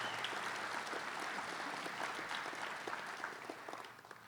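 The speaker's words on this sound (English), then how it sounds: "Give him a big round of applause because it's a big award." Applause for an award at a celebration of life gathering, a fairly quiet, sustained patter of many hands clapping from an audience across the room, thinning slightly toward the end.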